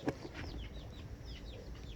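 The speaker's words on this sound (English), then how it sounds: "Was that chickens?" Faint, distant chickens cluck and chirp in a quick series of short calls over a low background hum.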